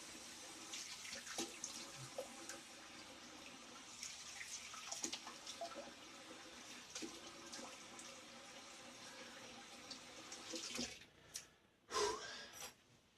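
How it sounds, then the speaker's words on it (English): Tap water runs steadily into a bathroom sink while someone rinses their face after a slant razor shave, with splashing and a gurgling drain throughout and a couple of louder splashes near the end; no one speaks. "Let me rinse my face off"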